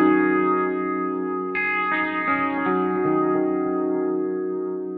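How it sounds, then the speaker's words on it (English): Strymon Brig delay pedal at long delay times producing glitchy, bit-crushed repeats over a sustained chord, with gritty echoes stacking and slowly fading, loud and close with no talking. "at longer delay times, a certain glitchy quality starts to seep into the repeats."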